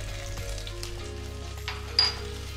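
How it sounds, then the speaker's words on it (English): Quiet, steady sizzle of oil in a pan, with chili jam added, over a low background hum and a brief brighter crackle near the end. "that's starting to give a nice little sizzle"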